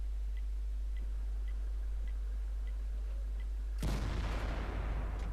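A single tank cannon fires in World of Tanks as one sudden heavy blast near the end, decaying into a rumbling tail. Before it, quiet, regular ticking plays over a low hum.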